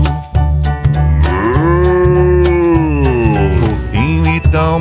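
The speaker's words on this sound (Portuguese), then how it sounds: "Olha o boi é engraçado, é muito grande e pesado." An ox moos with a long, drawn-out, wavering call over a children's song with a steady rhythmic music backing, loud and upfront.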